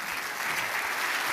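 Steady, dense audience applause fills the whole moment at a religious gathering, continuous and fairly loud with no pauses.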